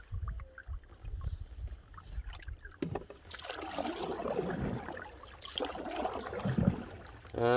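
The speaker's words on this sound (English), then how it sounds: "I'll keep paddling so we get there." Canoe paddle strokes on the Murray River, rhythmic water swishes and gentle splashes with a low rumble, close to the listener, growing busier toward the end.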